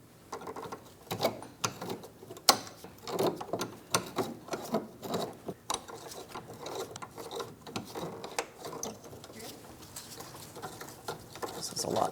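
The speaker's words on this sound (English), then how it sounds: "I'll be turning the adjustment nut clockwise, bringing it out and away until it separates." A 16mm wrench works the parking brake cable adjustment nut on a 2004-2008 Pontiac Grand Prix, giving irregular metallic clicks and ratcheting taps in uneven bursts, fairly close and moderately loud.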